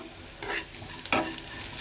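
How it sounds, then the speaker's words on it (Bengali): Spices crackle and sizzle in hot oil while dal is being tempered in a home kitchen, with two brief bursts of stirring scrapes standing out over the close, steady frying hiss. "ডাল ফোড়ন দেব"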